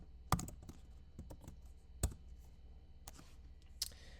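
Quiet typing on a computer keyboard, a few sparse key clicks with a couple of sharper taps spread over a few seconds, heard close against a faint background hum.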